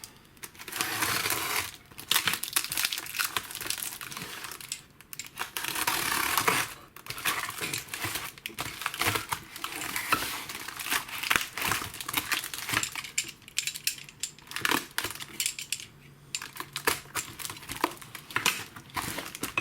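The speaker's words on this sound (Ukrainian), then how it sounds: "Зараз ми будемо робити розпакування." A package of treats being unwrapped, with plastic wrapping crinkling and rustling in repeated close bursts and small clattering handling noises, and no speech.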